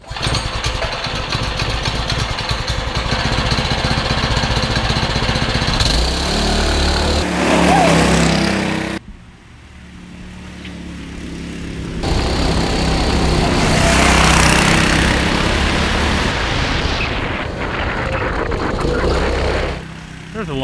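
A 10 hp Honda clone engine on a minibike runs with a steady buzzing drone, revving up and easing off as it passes close, then fading and returning.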